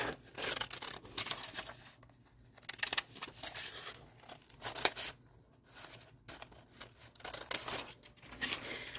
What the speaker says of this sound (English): I'm going to take my scissors and I'm going to cut it out.